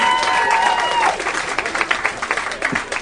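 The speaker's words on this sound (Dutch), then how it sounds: "Applaus." Audience applause at a classical music festival breaks out as a sustained musical tone fades, a dense, steady wash of clapping that continues strongly to the end.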